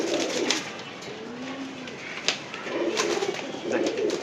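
Pet pigeons, including a large black and white mixed bird, coo in soft, low rolling bursts, close by, with short pauses between phrases and a few light clicks.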